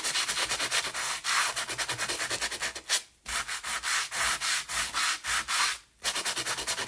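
Rapid back-and-forth rasping of a sanding block on two-tone cardstock, focused on a large butterfly, a steady rhythmic scrub with two brief pauses.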